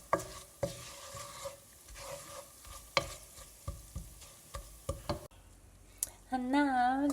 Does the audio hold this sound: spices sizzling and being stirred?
yes